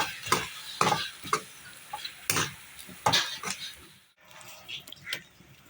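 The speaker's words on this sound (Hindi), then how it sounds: "हरी मिर्च कुटी हुई, थोड़ा मिक्स कर लेंगे।" Minced beef keema with crushed green chilli is stirred in a pan, with sharp, irregular scraping strokes over a low sizzle. A short pause comes near the end, then a few softer strokes.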